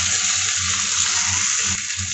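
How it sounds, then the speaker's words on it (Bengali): Water poured into a pan of ginger paste, Kashmiri chilli powder and fried cumin-coriander while cooking doi potol, a steady close splashing rush lasting the whole moment. "সামান্য জল দিয়ে দিলাম।"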